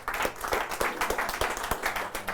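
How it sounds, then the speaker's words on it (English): An audience in a dental office claps for a patient after an endodontic retreatment, a quick run of sharp, close handclaps at a steady rhythm. "Can we have a round of applause for our awesome patient?"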